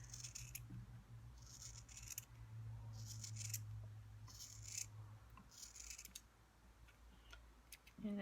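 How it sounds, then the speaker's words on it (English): Scissors snip a woven sample off a rigid heddle loom in a quiet room, a series of soft, close cutting clicks in short bursts over a faint low hum. "I can release some tension and I can cut it off the loom"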